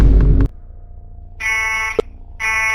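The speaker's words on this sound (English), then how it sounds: "Why are the alarm sounds for both the strong alarm and the soft alarm the same?" An alarm from the video game Five Nights at Wario's: Trapped Within, where a brief loud burst gives way to a quiet hum and then two bright, buzzing electronic alarm tones, each held for about half a second, with a short click between them.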